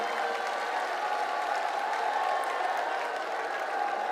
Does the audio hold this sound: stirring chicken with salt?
no